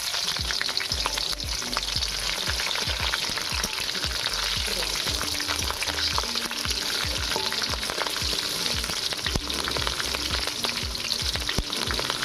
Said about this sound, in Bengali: তেলটা গরম হয়ে গেছে, আমি এখানে কালো জিরে ফোড়ন দিচ্ছি।